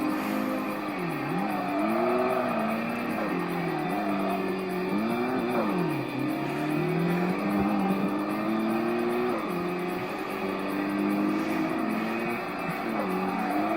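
A race car in the Tokyo Xtreme Racer Drift 2 video game drones and revs continuously, its engine pitch rising and dipping with gear changes as it races against a red MR2, loud and steady throughout.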